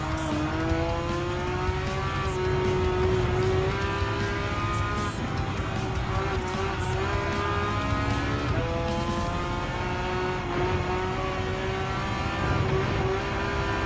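Porsche Cup race car engine in Gran Turismo 7, revving loud and continuous with rising pitch sweeps as gears shift up and down, with brief dips between gears and faint tire noise underneath.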